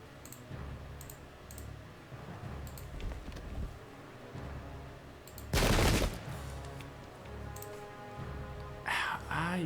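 A musket volley crackles out in the Pike and Shot video game as a loud burst of rapid shots midway, amid scattered interface clicks and a player talking.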